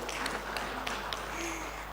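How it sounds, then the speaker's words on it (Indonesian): Steady, moderate applause from an audience at a regional candidates' public debate in Ogan Ilir, a continuous wash of clapping filling the room with no talk over it. "Tepuk tangan dong hadirin."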